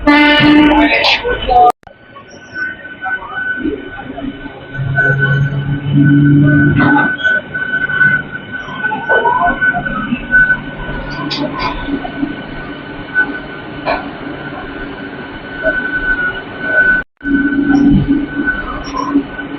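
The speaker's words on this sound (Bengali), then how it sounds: "এটা হচ্ছে Panskura local 178-529 Howrah two Panskura local train." A Howrah to Panskura local train rumbles and clatters past on the rails, loud and near, with wheel squeals and a horn now and then while someone talks over it.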